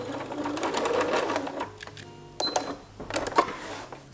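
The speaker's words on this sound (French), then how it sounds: "Donc, je couds jusqu'à mon cran" A sewing machine stitches a backstitch on a dress near the zipper notch, with a steady close mechanical whir that pauses briefly midway and then resumes in shorter bursts.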